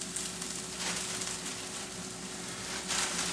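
Spring onions and bean sprouts fry in a pan rather than a wok, giving a steady, continuous sizzle at moderate level throughout, with a faint low hum underneath.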